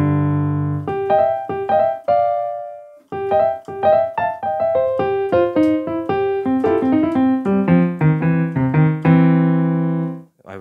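A boogie woogie piano plays a busy right-hand phrase of clear, bright notes in quick rhythmic bursts with a short pause near three seconds, ending on a held chord, loud and close with no talk.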